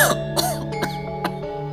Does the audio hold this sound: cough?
yes